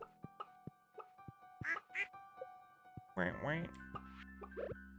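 Ducks quack repeatedly in a farm coop in the Stardew Valley video game, bright cartoonish calls in short bursts over light background game music and sound effects.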